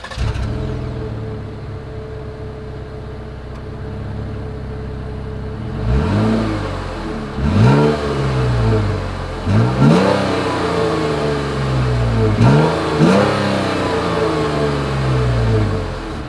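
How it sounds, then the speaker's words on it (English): A 2021 Jeep Cherokee's exhaust idles with a low burble, then is revved repeatedly, each rise in pitch followed by a drop back, loud and close. "As always, here is that exhaust clip."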